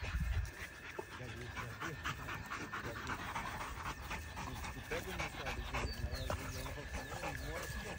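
Two pitbulls pant steadily and quickly while playing together close by, with people talking over the breathing throughout.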